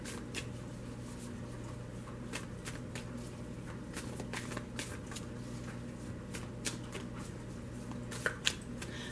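Tarot cards being shuffled by hand, a steady stream of soft riffling and flicking close up, with a few sharper snaps near the end and no talking.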